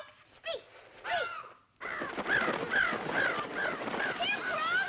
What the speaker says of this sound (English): Hey, Dad, the crows came back, and they're not mad at us.